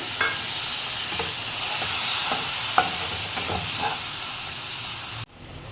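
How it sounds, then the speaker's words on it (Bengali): Cumin and coriander powder stir-fried with a splash of ginger-garlic water for an egg and prawn khichuri give a hissing, steamy sizzle with spatula scrapes and taps, steady and close before cutting off abruptly near the end. "এবার আমি সমস্ত কিছুকে ভালোভাবে একটু কষিয়ে নেব।"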